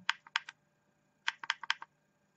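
The fire button of an e-cigarette mod is clicked in two quick bursts of about three to five sharp plastic clicks each, close up, with a short pause between the bursts.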